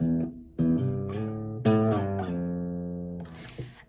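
A clean electric guitar plays a short classic rock intro riff of a few sustained, sliding notes with clear pauses between phrases, heard alone and close.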